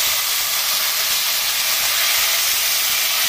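Tomatoes hit a hot pan of golden onions fried with ajwain, dried red chillies and fenugreek seeds, letting out a loud, steady, steam-like hiss that sizzles continuously for several seconds.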